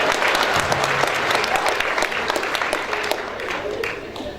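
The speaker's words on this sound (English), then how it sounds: "You should applaud for that" An audience at a heritage banquet breaks into steady, full applause, dense clapping that fills the room and slowly eases off toward the end, with a few voices mixed in.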